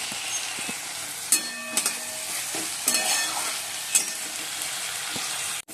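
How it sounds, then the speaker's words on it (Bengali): Ginger, garlic, onion and cumin powder fry and get stirred in a pan at home, giving a steady close sizzle with a few sharp scrapes and clinks along the way. "মশলা কষে নিচ্ছি আদা রসুন পেঁয়াজ জিরে গুঁড়ো"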